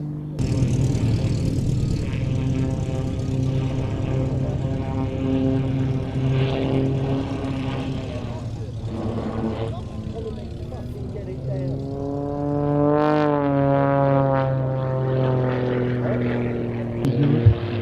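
A propeller aerobatic aircraft drones steadily overhead, its engine tone rising and falling as it manoeuvres, with a pronounced pitch shift near the end as it passes; talk continues over it.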